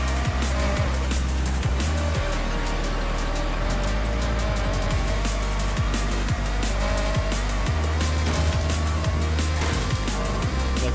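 A race car in the Forza Horizon 6 video game during online racing holds a steady loud engine drone for the whole stretch, with pitch shifts as gears change and no talk over it.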